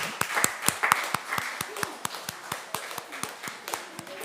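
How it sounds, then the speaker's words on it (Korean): Rhythmic welcoming clapping in a church service as young children walk in, sharp evenly spaced claps in unison, fairly soft and roomy, with faint background voices. "우리 환영의 박수 하겠습니다."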